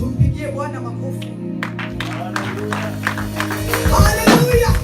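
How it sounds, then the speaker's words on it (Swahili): A church congregation clapping and cheering for the Lord, scattered hand claps building under a voice speaking over the room, with crowd noise swelling toward the end. "Tumpigie Bwana makofi."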